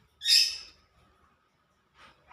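Pet lovebirds kept indoors give one loud, bright chirping call near the start, followed by a fainter, brief chirp near the end, with quiet between.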